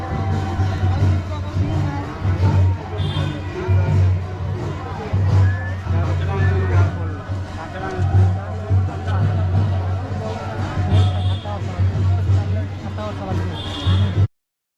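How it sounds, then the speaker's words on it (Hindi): Large crowd of devotees at a Kali festival during a Dandanacha celebration at Kulagada, a dense babble of many voices with a steady low drone, loud and close, while someone talks over it. "आप देख सकते हैं श्रद्धालुओं का कितना भीड़ है यहाँ पे"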